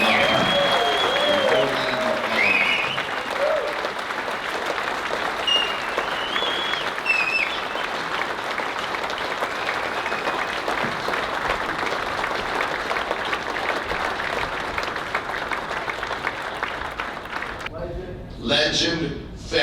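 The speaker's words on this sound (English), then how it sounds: "Let's give Donnie Smith a round of applause before we even call him up" Sustained crowd applause at a Sturgis Motorcycle Rally event, steady and loud for most of the stretch with cheering voices mixed in, cutting off near the end as a voice starts speaking.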